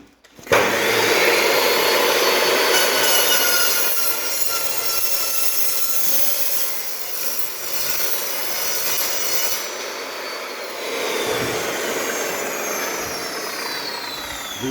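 A Makita LC30 metal cutting saw with a carbide blade cuts through steel with a loud, sustained high-pitched whine and grinding roar that holds steadily before easing slightly near the end.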